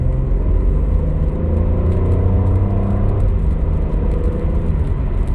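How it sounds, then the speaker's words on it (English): Road and exterior noise inside the cabin of a 2025 Honda Pilot TrailSport on the move, a loud continuous low rumble and whir from tires and wind, steady throughout with no talking. "It's a box on wheels, so you're going to hear some of that exterior noise coming into the cabin"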